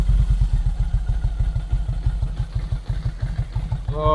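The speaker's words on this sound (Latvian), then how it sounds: "nu jau mocis bišķiņ labāk iesils" A motorcycle engine idles steadily while warming up, its low, regular pulsing loud and close throughout, with a brief clatter near the end.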